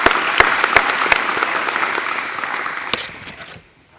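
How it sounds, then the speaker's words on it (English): Audience applause at a county foundation fall grant ceremony, steady clapping with several sharp nearby claps standing out, gradually thinning and stopping just before the end. "give yourselves a round of applause on that too"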